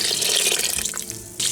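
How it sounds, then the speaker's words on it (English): Water pours steadily from a tap into a cooking pot, a continuous rushing splash that thins briefly and then surges again near the end. "we're gonna put water up to the bottom fill line right"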